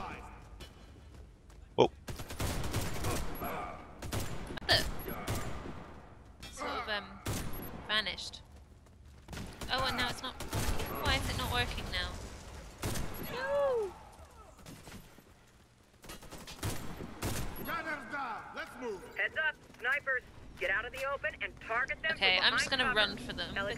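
Rapid bursts and volleys of gunfire from the Halloween gun in the shooter game Warface crackle throughout, loud and close, mixed with in-game effects while a player talks over the action.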